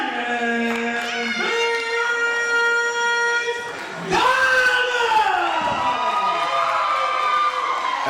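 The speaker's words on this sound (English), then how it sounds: "a nice crowd reaction again for Shining Vince Diamond" A crowd cheers in the Super Shogun Wrestling video game, a synthesized roar that swells and shifts in bursts behind steady tonal game sounds, loud and continuous across the whole stretch.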